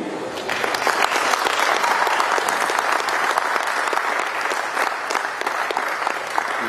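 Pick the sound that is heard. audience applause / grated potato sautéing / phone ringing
audience applause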